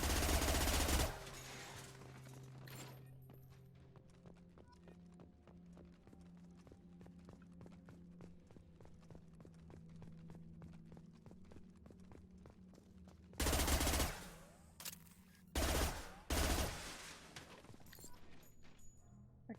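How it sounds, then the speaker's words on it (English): Shots fired to break open a box in Mass Effect Legendary Edition, among wreckage: a loud burst opens the clip, then a quieter stretch of tonal game ambience and music, and several more sharp gunfire bursts land near the end. "I have to shoot the box open to get it."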